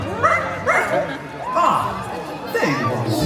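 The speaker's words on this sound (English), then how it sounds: "Where is that dog?" Dog barks and yips from the ghost dog in a Disney Halloween parade, several short, close, bright barks spread across the moment, with someone talking around them.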